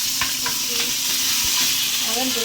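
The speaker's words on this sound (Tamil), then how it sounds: "பச்சை மிளகாய் போடு, இஞ்சியை போடு, கருவேப்பிலை போடு" Green chilli, ginger and curry leaves fry in hot oil for semiya upma, a loud steady sizzle with scraping stirring strokes of a spatula against the pan throughout.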